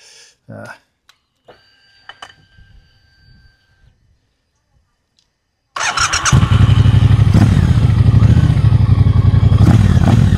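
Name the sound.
motorcycle engine exhaust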